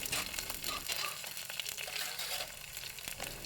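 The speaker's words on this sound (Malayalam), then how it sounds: "അപ്പോൾ ഇഞ്ചിയും കൂടെ ഇട്ട് കൊടുത്ത് നല്ലോണം വഴറ്റുക." Ginger and onions sautéing in a hot pan give a steady, close sizzling hiss with faint stirring scrapes, running continuously without any talk.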